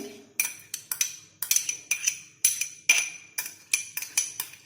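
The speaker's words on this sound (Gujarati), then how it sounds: "આપણે આ ખાયણીમાં જ આ વરિયાળીને ખાડશું" Repeated sharp pounding strikes as fennel seeds are crushed in a mortar, in a steady rhythm, metallic clinks ringing with each blow, close up and alone.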